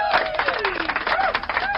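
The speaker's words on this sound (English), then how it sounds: "Crowd goes wild again." Crowd cheering and clapping at a mixed doubles curling championship after a long run-back shot, a busy, sustained roar of applause with a commentator talking over it.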